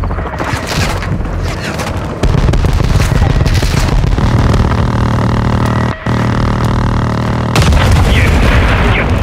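Airstrike explosions slam into a building in a military video game, a loud, sustained roar of booms and rumbling debris that swells and barely lets up.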